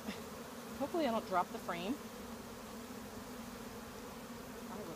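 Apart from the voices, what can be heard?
honey bees buzzing around a nuc hive frame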